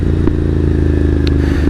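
Ducati Monster or Triumph Street Triple motorcycle engine, close and loud, held at steady high revs against the rev limiter with a dense harmonic drone and a couple of brief clattering blips.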